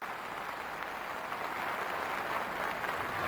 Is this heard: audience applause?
yes